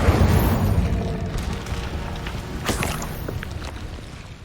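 An Incendio fire spell cast in the Hogwarts Legacy video game, a loud roaring rumble sustained throughout with crackling bursts on top, close and alone with no talk.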